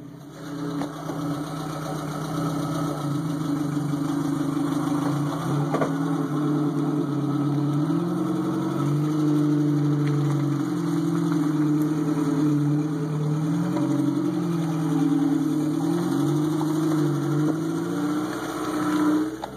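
A Jeep's engine idles steadily while being towed, a continuous mid-pitched rumble with slight wavering, loud and close throughout with no talk.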